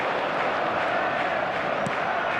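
Steady roar of a stadium crowd in the football game eFootball 26, a dense, continuous wash of massed voices held at an even level throughout, with a faint brief cry near the end.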